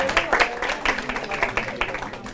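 Listeners at a panel discussion on schools and youth break into brief applause, a short patter of clapping with a few voices mixed in.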